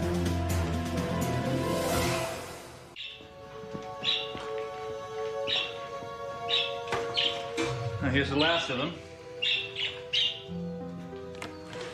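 Birds chirp and squawk in short, repeated bursts after a loud opening passage of sound, with a voice speaking briefly over them.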